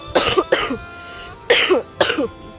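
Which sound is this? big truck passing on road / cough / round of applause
cough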